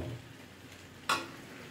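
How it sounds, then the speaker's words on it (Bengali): Water splashes into a hot pan of spicy meat that has been browned until it sticks. A sudden loud hiss and sizzle bursts out after quieter stirring and cooking sounds. "এবার আমি এর মধ্যে দিয়ে দিচ্ছি জল।"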